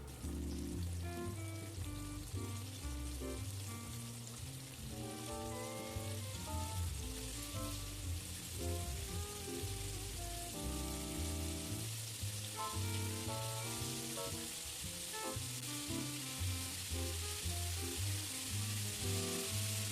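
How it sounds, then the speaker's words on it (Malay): Steady hissing sizzle of batter-coated squid frying in hot oil in a wok, continuous throughout, with melodic background music playing over it. "Kita goreng sikit-sikit."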